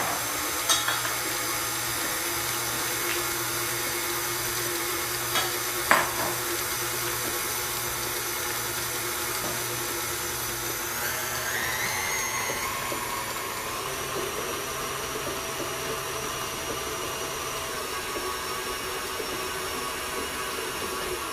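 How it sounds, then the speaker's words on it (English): An electric stand mixer beating gluten-free pizza dough made from Pamela's crust mix, a steady motor hum and whir running throughout with a slight shift in pitch partway through and a few faint knocks. "I'm going to turn on the mixer and mix it up for about a minute."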